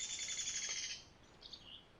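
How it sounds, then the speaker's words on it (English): Birds sing at a quiet campground, a bright steady chirping trill that fades after a second into a few softer distant calls over faint background hush. "listen to the birds"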